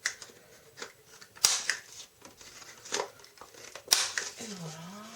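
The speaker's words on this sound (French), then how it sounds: "Je vais arrondir les angles de cette carte." Scissors rounding the corners of a paper card tag for a scrapbook album, a few sharp close snips separated by quiet pauses with light paper rustling, and someone speaks briefly near the end.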